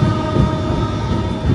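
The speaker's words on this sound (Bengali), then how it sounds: "এই ছাড়লো ট্রেন কটক থেকে" A Shatabdi passenger train pulls out of platform 3 at Cuttack station with a steady, low rumbling drone of rolling carriages and no talk.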